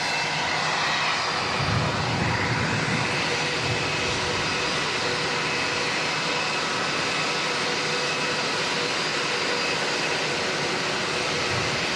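Emirates Airbus A380 jet departing Christchurch airport, a loud continuous roar of jet engines filling the whole stretch, broad and steady with no talking.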